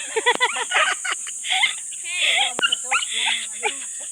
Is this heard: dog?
yes